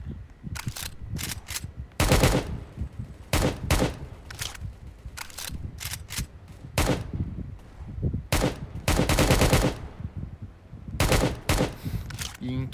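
Rapid bursts of gunfire from the Roblox Prison Life video game, automatic volleys and single shots coming in loud clusters with short gaps over roughly thirteen seconds.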